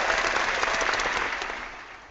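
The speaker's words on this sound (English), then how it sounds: "I'll give some applause for that." Applause from a small audience at a Christian discussion gathering, a steady wash of clapping that holds evenly and then fades toward the end, with no talk over it.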